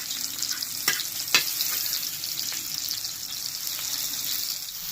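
Capsicum, chillies and tomatoes frying in a pan give a steady, close sizzle with a couple of sharp pops early on and no voices.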